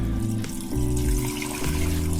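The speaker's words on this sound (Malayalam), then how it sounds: "അതിലേക്ക് കുറച്ച് വെള്ളം കൂടി ഒഴിച്ചു കൊടുക്കാം." Water is poured from close by into a cooker holding potatoes and carrots for masala dosa filling, a steady splashing flow that briefly changes pitch as the vessel fills.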